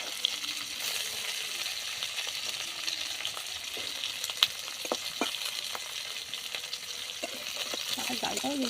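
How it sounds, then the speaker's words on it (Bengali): Tilapia pieces refrying in hot oil in a wok give a steady, close broadband sizzle, with a few sharp clicks and knocks from stirring near the end. "আর আরেকবার একটু ভেজে নেবো।"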